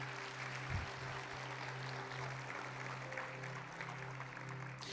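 Church congregation applauding for Jesus during a Sunday service, a steady wash of clapping held at even loudness throughout over a low droning hum.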